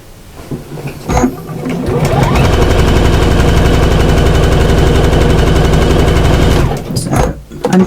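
A sewing machine stitching a seam on a fabric bag runs at a steady, rapid, close-up whir for several seconds, with brief handling clatter before it starts and just after it stops.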